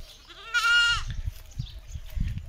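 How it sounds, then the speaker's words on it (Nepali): A goat lets out one loud, wavering bleat, followed by low rustling and shuffling noises nearby. "उठेर भने अब बाख्राहरू कराउनु लाएँ"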